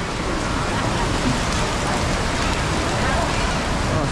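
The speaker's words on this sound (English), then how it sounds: "Oh, it's rain." Steady rain falls in Bangkok, a continuous broadband hiss of drops on surfaces, fairly loud and unbroken from start to finish.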